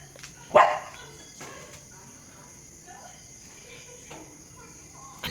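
A single loud dog bark rings out near a house at night, followed by quieter night ambience with crickets chirping faintly; a brief softer bark or yelp may follow.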